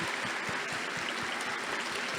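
An audience at a book fair panel applauds with dense, steady clapping and a loosely rhythmic pulse throughout, filling the room without talk.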